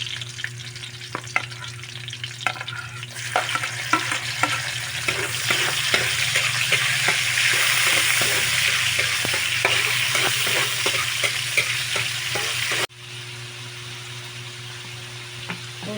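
Steady sizzling of pork offal frying in a pan, with occasional stirring scrapes and crackles, loud and close, no voices.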